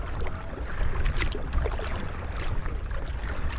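Steady paddle strokes splash and churn water close by as an Aqua Marina Halve ultralight inflatable kayak moves along at an even pace, with wind buffeting throughout and no voices.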